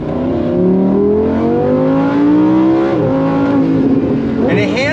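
A 2024 Lamborghini Huracan Sterrato V10 roars loud and close, its pitch climbing under throttle, then dropping through quick downshifts with sharp blips near the end, while a voice talks over it.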